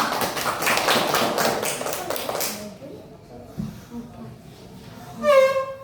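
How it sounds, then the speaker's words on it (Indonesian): Students in a classroom during an Islamic religious lesson clap together in brisk, even rhythm for a few seconds, then stop abruptly as a voice begins speaking in the quieter room. "Ya, tepuk tangan untuk"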